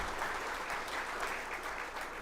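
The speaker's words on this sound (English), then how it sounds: "would you give him a round of applause" A conference audience applauds as a retired colleague stands during opening welcome remarks, a dense, steady wash of clapping heard from within the hall at moderate volume with no voices over it.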